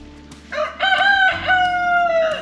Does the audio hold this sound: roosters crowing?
yes